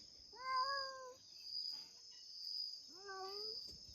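A cat meows twice, drawn-out and tonal, with a pause between, while a steady high insect-like buzz of crickets continues in the background.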